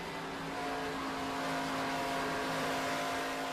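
A NASCAR K&N Pro Series East race car at Dover International Speedway drones steadily as the driver modulates the throttle, a continuous distant engine roar with faint tonal harmonics and no talk.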